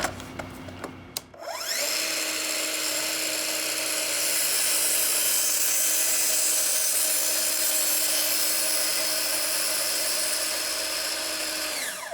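A power saw cuts a wedge off a book-matched wood veneer panel. Clicks and a brief pause lead into a long, steady, high whine that holds evenly for about ten seconds before starting to wind down, with no voices.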